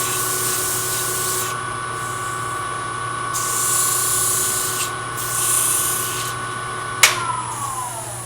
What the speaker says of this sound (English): Using the cloth paper blends out a lot of my tool marks.